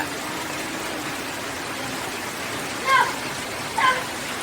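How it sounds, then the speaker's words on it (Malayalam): Heavy rain pours down outside in a steady, unbroken hiss, joined by two brief faint chirps near the end. "സൂപ്പർ മഴ പെയ്തുകൊണ്ടിരിക്കുകയാണ്"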